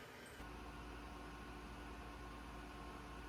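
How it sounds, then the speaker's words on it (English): The exhaust fan and air assist of a laser cutter run together as a steady mechanical whir and hiss. A constant low hum sits under a faint airy rush, with no voices. "start this project, also with my exhaust and my air assist both on this time"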